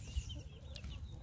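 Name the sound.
Cornish cross chicks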